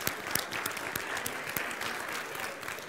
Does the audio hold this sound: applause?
yes